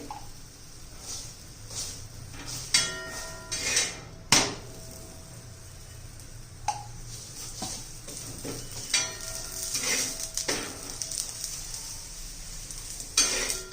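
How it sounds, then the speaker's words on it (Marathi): Cabbage-stuffed paratha roasting in ghee on a pan, a steady soft sizzle with scattered scraping and pressing sounds from turning and spreading, close and moderate, no talking. "हे दोन्ही बाजूने खमंग असा भाजून घ्यायचा आहे आणि तूप लावून घ्यायचंय"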